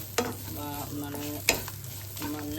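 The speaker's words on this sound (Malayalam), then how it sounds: "നല്ല ഇളക്കി കൊടുക്കുക" Grated coconut and red chilli mixture stirred in a pan, with soft frying sizzle under two sharp spoon knocks against the metal and repeated scraping strokes.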